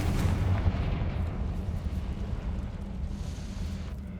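A Confringo explosive spell cast in the video game Hogwarts Legacy booms as a heavy, rumbling blast that fades into a sustained low roar over about four seconds, with no talk.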